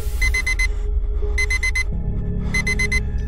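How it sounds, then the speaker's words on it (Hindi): An alarm clock rings in repeated bursts of rapid electronic beeping, three clusters close and loud, set against a low steady hum in an animated horror story scene. "अलार्म की आवाज"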